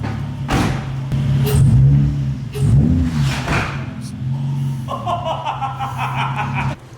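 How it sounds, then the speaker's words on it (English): Nissan 350Z drift car engine revving in short bursts, rising and falling, mixed with laughter and chatter from people nearby. "Drift car!"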